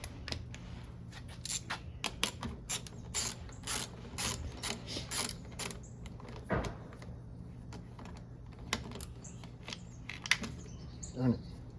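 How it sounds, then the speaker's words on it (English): An 8mm socket on a ratchet removing the inner carburetor bolts of a Toro Recycler 22 lawn mower: bursts of close, quiet clicking repeat over a steady low hum, with occasional clinks in between. "Now we're going to take our inner bolts off"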